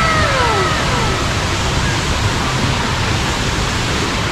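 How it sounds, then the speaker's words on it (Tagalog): Nonok Falls pours in a dense, unbroken rush of falling water, loud and close, a steady broadband roar with no variation for the whole stretch. "Ayan, Nonok Falls."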